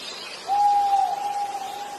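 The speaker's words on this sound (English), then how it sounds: "The bird sound at the end make a big difference" A single bird call from a video played back during a seminar on tourism and hospitality: one long, steady whistled tone held for about a second and a half, fairly clear over faint background hiss with no talk.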